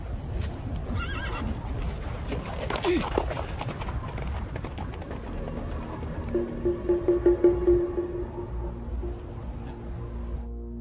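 Horses at stables whinny loudly and repeatedly while hooves clop and run in busy bursts nearby, the neighing standing out clearly, with voices speaking over the commotion in a dramatic film scene.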